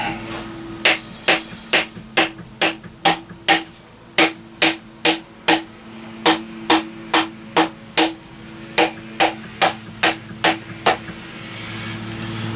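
Wooden planter pieces are struck together with the back of an axe, about twenty sharp, evenly spaced knocks in a steady rhythm, close and loud with no talk.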